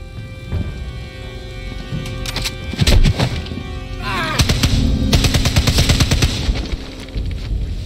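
Loud weapon gunfire in the sniper video game Sniper Elite 5: several sharp booming shots with heavy low rumble and ringing tails, the strongest burst midway, set against ambient game sound.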